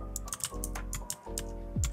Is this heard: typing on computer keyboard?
yes